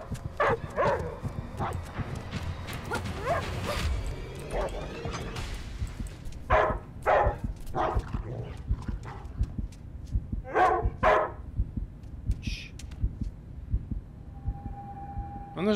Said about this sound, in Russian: это же компьютерная собака